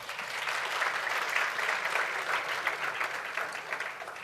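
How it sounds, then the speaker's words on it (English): Steady audience applause for two speakers at a media exchange event, a continuous wash of clapping at moderate volume, fairly even and without talk. "A big round of applause for them."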